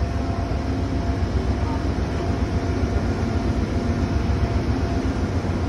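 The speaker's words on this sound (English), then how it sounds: "Folks, this is an Amfleet Amtrak car." Amtrak Silver Meteor train with an Amfleet car in Savannah, Georgia, giving a steady, loud low rumble of rolling wheels on track throughout, continuous and close with no talk.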